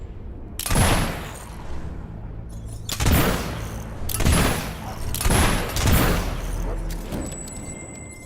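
Gunfire in the game Fable 3: several heavy, booming shots spaced a second or so apart, each with a long ringing tail, loud and close over faint background sound.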